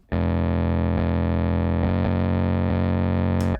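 A loud, sustained distorted synth bass with a gritty, buzzing harmonic tone, holding steady notes with a few brief changes in pitch.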